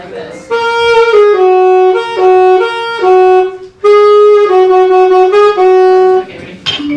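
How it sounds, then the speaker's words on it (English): A short melody inverted around pitch 7, played as a clear sequence of sustained tonal notes with steady rhythm and brief gaps, loud and close, with no speech. "Now, inversion around 7 is like this."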